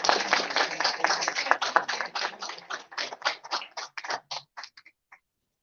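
An audience at a management conclave applauds, with a dense burst of clapping that thins into scattered final claps and stops, close and fairly loud.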